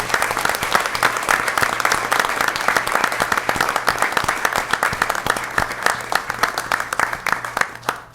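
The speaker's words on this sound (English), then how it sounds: "How about a nice round of applause?" A round of applause for students at a school board meeting, steady dense clapping from a seated crowd that fills the room at an even level for several seconds before tapering slightly at the end.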